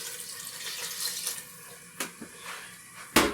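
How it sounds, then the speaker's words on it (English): Water is poured into a pan of caramelized pork and vegetables, a soft splashing trickle with a few sharper clinks and splashes toward the end, close and fairly quiet, with no talk. "Okay, in goes the water."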